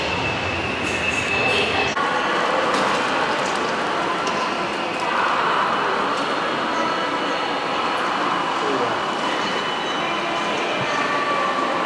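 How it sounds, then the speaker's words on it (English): A loud train rumbles in close as it approaches a station in Hong Kong, its roar filling the space, with a brief metallic squeal and faint voices mixed into the noise. "I think the train is approaching now"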